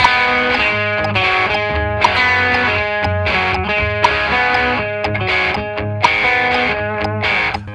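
An electric guitar played through distortion and chorus effects chugs a rhythm pattern deliberately slow and out of time, with uneven strums and loose accents throughout.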